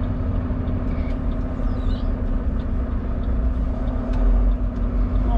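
Semi truck backing a trailer into a spot at a yard on a windy winter day: a steady low diesel rumble and drone, close and continuous, with no talk over it.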